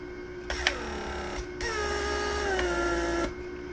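A Mercedes PSE central door lock pump runs with a steady mechanical hum and whine, a sustained buzzing drone lasting a few seconds with small clicks at start and stop, close and fairly loud.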